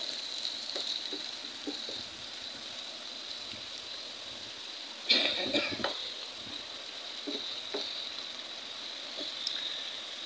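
Fish stirred and cooking in a pan gives off a steady, hiss-like sizzle throughout, with a brief louder clatter of stirring near the middle and occasional light knocks.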